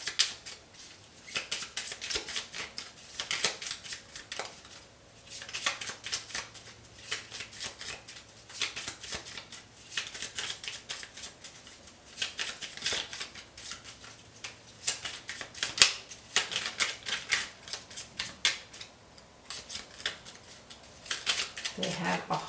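Oracle cards being shuffled by hand during a tarot-style reading, a long run of quick papery riffles and flicks repeating in bursts, close and moderately loud, with no talking over it.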